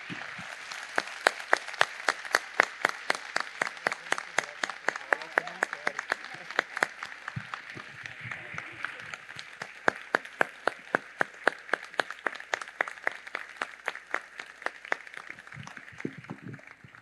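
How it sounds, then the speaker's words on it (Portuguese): Sustained, dense applause from a conference audience for architect Moacir Mogen Marques at an architecture closing session, many hands clapping steadily at close range for the whole stretch. "uma salva de palmas para Moacir"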